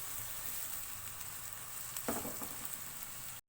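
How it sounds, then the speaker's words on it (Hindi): Chopped onions sautéing in a pan for chicken keema karahi, a steady close sizzle and hiss with a brief stirring scrape near the middle before it cuts off abruptly. "प्याज को हमें ज़्यादा गोल्डन ब्राउन नहीं करना है"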